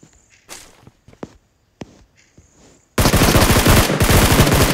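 Rapid automatic gunfire from a shooting video game bursts in loudly and continuously for the last couple of seconds, after a stretch of quieter footsteps and scattered clicks.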